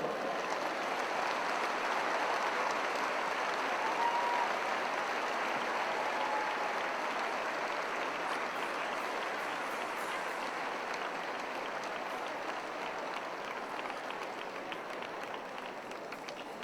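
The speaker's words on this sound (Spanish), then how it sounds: "Vamos a darle un fuerte aplauso." A large audience at a Catholic religious gathering applauds loudly and continuously, a steady wash of clapping that tapers slightly toward the end.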